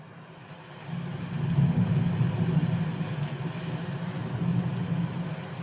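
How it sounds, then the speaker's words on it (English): Thunderstorm-with-rain sleep sounds playing from an Alexa smart speaker indoors: a continuous low rumble under a faint, even hiss that swells after the first second and holds steady. "this is thunderstorms with rain"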